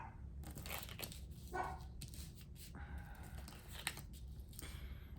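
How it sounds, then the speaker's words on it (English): Several dogs bark in short, scattered bursts at moderate distance, mixed with some rustling and crinkling noise in a room. "It's funny how my dogs are barking"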